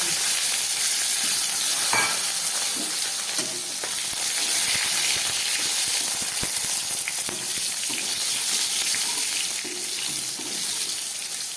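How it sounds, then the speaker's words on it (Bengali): Pieces of eggplant fry in hot oil with black cumin seeds, making a loud, continuous sizzle and crackle close by, with occasional stirring scrapes and small pops throughout. "কয়েক পিস বেগুন আমি ভেজে নিচ্ছি।"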